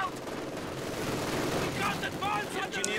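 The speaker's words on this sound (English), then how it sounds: "this machine gun is focusing on these guys" Machine gun bursts and scattered rifle fire crackle through a Company of Heroes 2 battle between Soviets and Wehrmacht, a steady rattle of gunfire with sharper shots near the end and faint battlefield rumble beneath.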